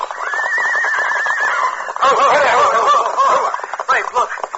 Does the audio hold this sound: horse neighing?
yes